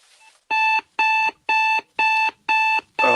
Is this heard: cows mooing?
no